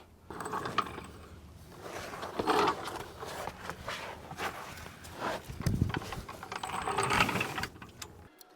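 Floor jack lifting a Chevrolet Tahoe, Suburban or Silverado truck: close mechanical ratcheting and creaking in rhythmic pumping strokes, swelling and fading for several seconds.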